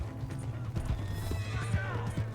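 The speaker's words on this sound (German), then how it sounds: "Voll geil, so eine Verfolgungsjagd auf dem Gaul." A horse gallops during a chase in the video game Red Dead Redemption 2, with rapid hoofbeats drumming under a neigh and other game sounds while a person talks over it.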